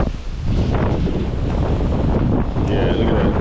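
Strong gusting wind buffets a microphone outdoors at a church during a pressure-washing job, a constant loud roar that swamps everything else for the whole stretch.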